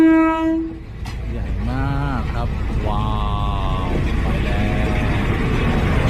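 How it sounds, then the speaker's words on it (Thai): A train horn sounds in several long blasts over a loud, steady rumble of a train arriving at Mae Klong railway station, close by. "เสียงรถไฟกำลังมาแล้ว"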